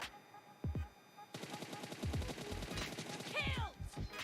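Rapid automatic gunfire bursts rattle through a PUBG mobile match, several close volleys of repeated shots with quieter distant fire between, while a player speaks briefly underneath.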